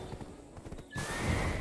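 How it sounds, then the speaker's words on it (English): A horse in the Black Desert Online video game clops its hooves, and a loud burst of neighing and hoof noise follows partway through, close and with no talk over it. "I missed my horses."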